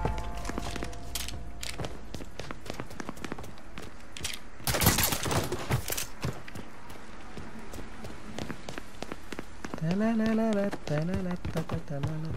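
Rapid bursts of gunfire in Mafia III, sharp close shots in irregular clusters with a louder flurry midway, mixed with game ambience, a short tonal siren-like sweep near the end, and faint voices underneath.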